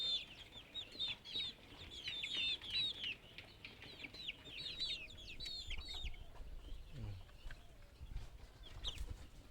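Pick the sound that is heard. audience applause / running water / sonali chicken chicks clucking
sonali chicken chicks clucking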